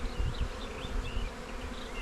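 Honey bees buzz steadily inside an open hive during the merging of a good and a failed colony, a dense close-up drone with individual bees whining past, alongside some low thumps.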